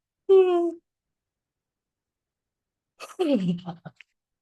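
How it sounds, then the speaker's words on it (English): A short voiced breath is followed by a long pause, then a drawn-out yawning exhale that slides downward and trails off. "I stretch and yawn again."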